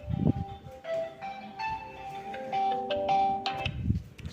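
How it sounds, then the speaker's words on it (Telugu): A mobile phone ringtone plays a bright electronic melody of sustained chiming tones for about four seconds, loud and close, with brief low thumps at the start and end and no talk. "అది రింగ్ టోన్ గైస్"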